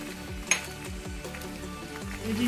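Red chili powder sizzling in hot oil while cooking Bengali katla fish kalia, a steady close crackle and hiss with a spoon scraping the pan in repeated strokes and a sharp clink near the start.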